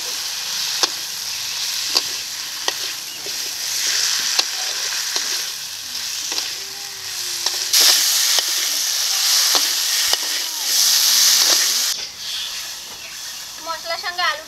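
Potatoes fry with spices in a pan, a continuous bright sizzle broken by repeated scrapes and taps of a spoon stirring against the metal, loud and close throughout.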